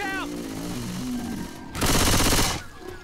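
Gunfire in the co-op zombie shooter Left 4 Dead 2, a loud dense burst of rapid shots lasting under a second, with game voices and speech heard around it.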